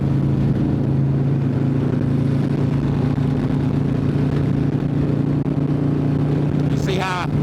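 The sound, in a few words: motorcycle with 143 CVO engine riding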